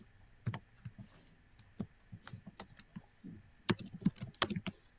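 Someone typing code on a computer keyboard, irregular bursts of close, crisp key clicks with short pauses, growing into a faster cluster of taps toward the end, with no voices.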